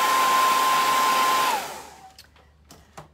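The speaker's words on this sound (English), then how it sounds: "Let me hit it with the hairdryer." A hair dryer blows steadily on wet paint with a loud, even whoosh and a high whine, then shuts off and winds down, leaving faint clicks and quiet handling sounds.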